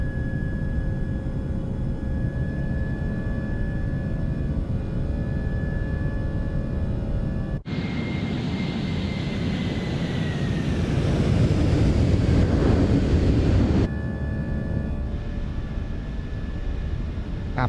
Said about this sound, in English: Listen to those engines go.